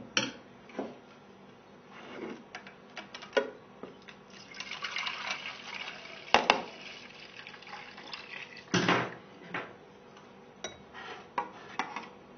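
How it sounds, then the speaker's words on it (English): Juice is strained and poured between containers, with splashing liquid, clinking of dishes and utensils, and irregular knocks close by over a light background hiss. "So after straining the juice, we have on the left side the same amount of juice"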